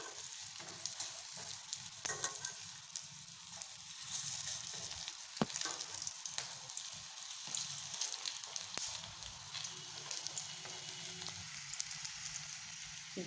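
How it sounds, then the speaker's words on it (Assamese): Pakoras fry in hot oil with a steady, crackling sizzle and scattered sharp pops, plus occasional clicks from handling. No voices. "এতিয়া দুপিঠি ৰঙচুৱা হোৱালৈকে ভালদৰে ভাজি ল'ম।"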